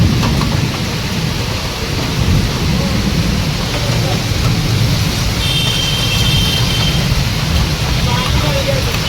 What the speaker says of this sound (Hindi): क्या बारिश है मस्त वाली बारिश हो रही है